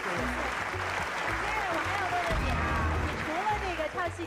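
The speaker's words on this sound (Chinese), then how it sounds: "我觉得真的我们在场的所有观众一定给这个孩子点掌声" A TV studio audience applauds a 9-year-old girl after her Peking opera performance, with dense, sustained clapping throughout, mixed with music and voices.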